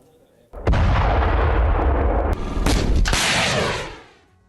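A fourth-generation indigenous short-range air defence missile blasts off at the Pokhran firing range in Rajasthan, a sudden loud roaring rush sustained for about three seconds before fading away.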